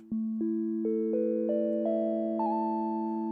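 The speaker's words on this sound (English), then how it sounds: "here's our sine wave" A Behringer Deckard's Dream synthesizer sine wave tone steps upward through a series of short, evenly spaced notes, each starting with a soft click and holding steady, clean and close.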